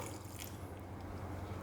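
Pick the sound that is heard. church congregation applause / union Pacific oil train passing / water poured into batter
water poured into batter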